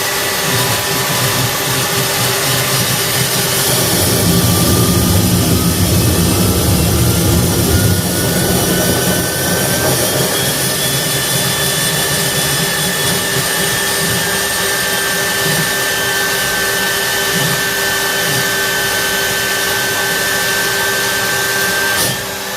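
A home-built turbojet engine running on liquid fuel, a steady, loud roar with a high whine and turbine tones held throughout, close by and without talk.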